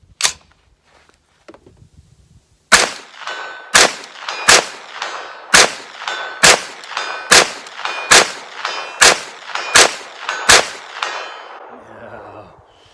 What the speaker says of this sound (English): Let's see how fast we can get 10 rounds on that steel.